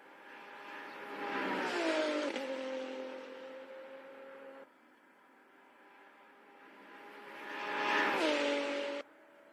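Virtual race cars in an NZ SuperLap sim racing game sweep past twice, engines rising to a loud whining pitch, then dropping with a sharp gear-change cut, with a quieter drone between the passes.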